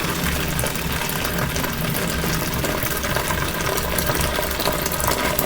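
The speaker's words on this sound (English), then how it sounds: "So I'm pouring all of it into the basin" Hot water poured from a kettle into a basin makes a steady, close, splashing rush that runs unbroken for several seconds.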